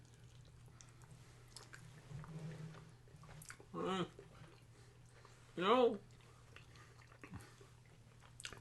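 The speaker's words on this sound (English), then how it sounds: "Listening to you guys chew makes me want to vomit." Several people chewing sour stuffed grape leaves close to the mic, soft wet mouth sounds with two louder squishy bites standing out, under quiet talk and a low steady hum.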